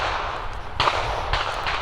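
Gunfire from a nearby gun range heard from a cemetery, two sharp reports about half a second apart, moderately distant, over steady outdoor background noise.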